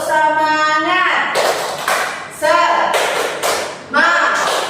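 A school class does a rhythmic cheer clap in a classroom, bursts of loud group claps and thumps alternating with children chanting in unison, in three or four rounds.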